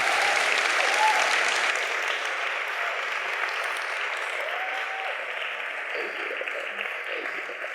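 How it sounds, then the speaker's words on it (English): An audience at a 2016 panel event applauds the panelists on stage, a steady, dense clapping that fills the whole stretch at an even level before easing off slightly at the end. "Let's give them one more round of applause."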